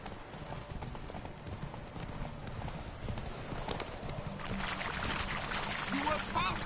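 Roach the horse gallops in The Witcher 3, hoofbeats clip-clopping in a fast, steady rhythm under wind and surrounding noise, with the pounding growing slightly louder toward the end while a voice speaks briefly.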